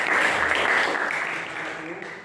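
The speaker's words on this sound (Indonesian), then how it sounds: "Kasih tepuk tangan yang sudah menjawabnya." Classroom applause for students who answered correctly rises as a dense burst of clapping and fades over about two seconds, with voices mixed in.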